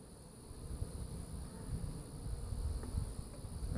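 Honey bees buzz steadily in an open hive during an inspection, a dense low drone up close, with faint wind and no speech.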